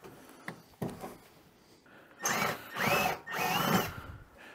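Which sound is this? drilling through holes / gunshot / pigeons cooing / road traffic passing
drilling through holes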